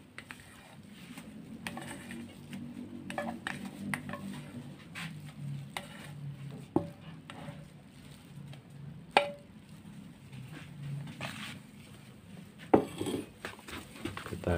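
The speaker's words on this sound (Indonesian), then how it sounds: "Kita campurkan semua ya teman-teman seperti ini." Cream ingredients for bagelen being stirred in a bowl, with irregular close clinks and scrapes of a utensil against the bowl over a quiet room.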